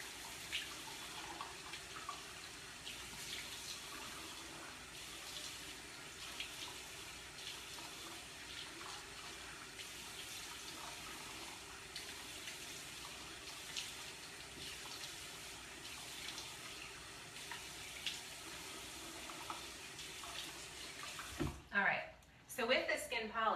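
Tap water runs steadily into a sink as skin is rinsed, a constant faint splashing stream with small irregular spatters, ending in a few louder knocks and splashes as the flow stops.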